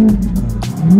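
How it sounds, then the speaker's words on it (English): A car engine revs hard close by, a steady low growl rising at the end, with a brief rasp midway. "Oh my god, you hear that purr, Jeffrey?"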